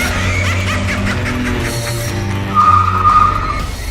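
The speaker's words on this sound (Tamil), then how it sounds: "டிரைவர் அதுகிட்ட இருந்து தப்பிக்கிறதுக்காக சடன் பிரேக் போட்டான்" A taxi brakes suddenly and skids on the road, a loud sustained engine roar rising into a squealing tyre screech near the end, close and dramatic within a spoken ghost story.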